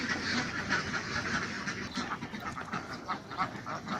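Several CP Khaki Campbell laying ducks quack in a busy, overlapping chorus throughout, fairly close, with no talking.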